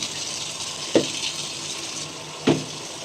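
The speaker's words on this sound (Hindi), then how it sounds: "अब ये लास्ट बार पानी भर के एक साइड कर देती हूँ" Water runs steadily from a tap into a container in a home, a constant close rushing hiss broken by two brief splashing clunks spaced about a second and a half apart.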